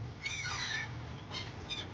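Birds call over a fishing harbour at Okha port, with squawking cries near the start and short chirps later against steady waterside background noise.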